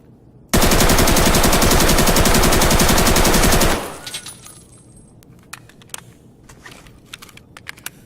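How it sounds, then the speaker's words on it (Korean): Sustained automatic gunfire from Escape from Tarkov, a loud unbroken burst lasting about three seconds, followed by faint scattered clicks and metallic rattles. "이번에는 총소리로 어, 보여드리도록 하겠습니다"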